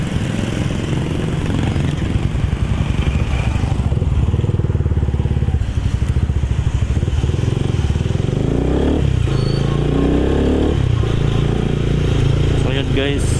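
A motorcycle engine runs loudly and close by at home, a constant rough drone that stays steady throughout with slight shifts in pitch.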